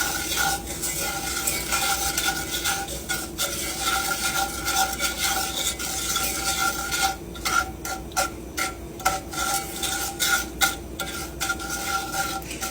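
Pineapple upside-down cake topping bubbles and sizzles in a hot pan, a soft continuous crackle broken by scattered clinks and scraping stirs that grow busier toward the end.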